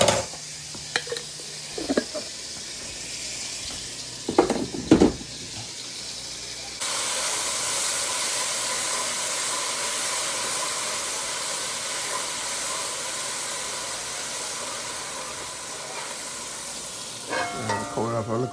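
Garlic paste sizzling in a hot cooking pot, a steady hiss and crackle that swells in the second half, with scattered clanks of utensils at the start and end.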